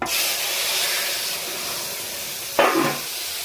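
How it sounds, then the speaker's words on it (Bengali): Ginger paste with chilli and cumin powder hitting hot oil after cumin seeds, a steady hiss with a brief louder burst of sizzling near the end. "এখন এর মধ্যে আমি দিয়ে দেবো আদা বাটা, জিরের গুঁড়ো আর লঙ্কার গুঁড়ো"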